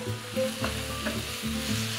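Beef with paprika, cumin, cinnamon and chilli sizzling in a very hot pan, a loud close hiss with brief stirring clatters over two seconds.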